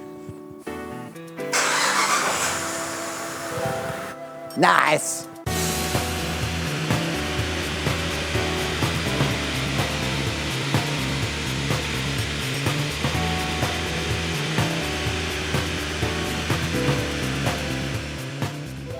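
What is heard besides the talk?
Saab 9-3 2.8 V6 turbo engine running on a dyno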